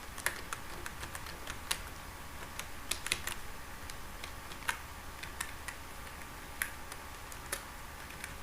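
Quiet, uneven keystrokes on a computer keyboard as HTML code is typed, with sparse clicks at an irregular pace over a faint background.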